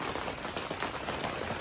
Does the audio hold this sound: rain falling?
yes